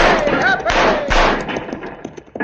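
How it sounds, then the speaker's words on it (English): Several booming gunshots from cavalry crack out as radio drama effects for a Western, heavy thuds at irregular intervals mixed with shouting voices. "Cavalry is firing to cover us."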